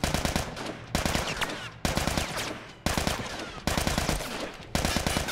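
Rapid automatic gunfire in The Last of Us game, loud and close, in five or six dense bursts of around a second each, separated by abrupt cuts.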